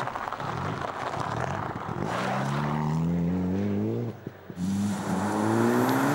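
A Mitsubishi rally car on studded Michelin tires pulls away at a Finnish rally school, its engine revving up through rising gear pulls, dropping briefly at a shift before climbing again, fairly distant and continuous.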